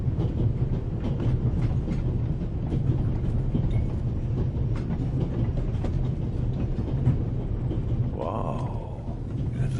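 A moving train in the video game The Raven Remastered rumbles steadily with a continuous clickety-clack of wheels on rails, joined near the end by a brief sliding tone.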